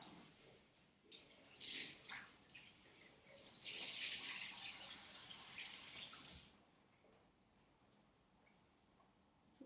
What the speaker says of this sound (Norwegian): skyller opp kluten igjen. Gjerne ta helt og rennende varmt vann fra springen